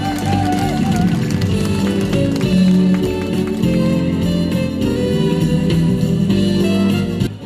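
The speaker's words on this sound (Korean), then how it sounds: "박수로 박수 주시기 바랍니다." Attendees at a primary school alumni association general meeting applaud with dense, steady clapping that stays loud and continuous for several seconds, heard over music and a booming hall ambience.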